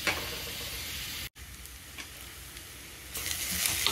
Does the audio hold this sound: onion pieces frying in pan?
yes